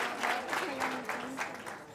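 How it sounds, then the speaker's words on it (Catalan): Short burst of studio audience applause on a Catalan television word game show, moderate and even, with a voice speaking briefly over it. "Doncs així et fem l'aplaudiment"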